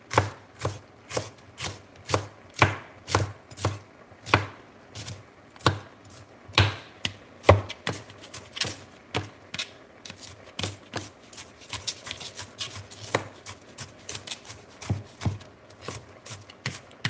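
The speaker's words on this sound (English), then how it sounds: "I'm chopping the chiles over here." A knife chops chiles steadily on a cutting board, quick rhythmic knocks that speed up into a rapid, even patter.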